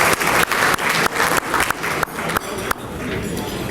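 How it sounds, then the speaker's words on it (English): An audience claps at a community awards dinner, a loud crowd round of applause with sharp individual claps that thins out and softens toward the end. "But please give them a round of applause."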